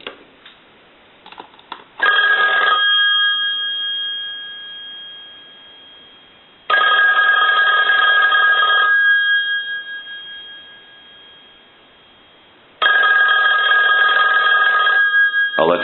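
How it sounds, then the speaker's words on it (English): A Western Electric 2500 touch-tone telephone's mechanical bell rings loud and close in three long bursts, each a couple of seconds of rapid clanging that decays before the next, with brief handling noise at the start. "I'm going to go ahead and ring the telephone."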